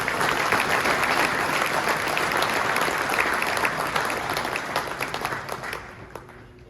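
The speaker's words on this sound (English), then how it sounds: "Let's give the great player nominees a big round of applause." An audience at a high school football awards ceremony applauds the player nominees, with sustained, fairly distant clapping that gradually thins and fades out.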